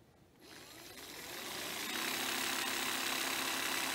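Theragun percussive massage device starting up and running, a rapid buzzing motor hum that ramps up within the first two seconds and then holds steady and fairly loud, with no voices.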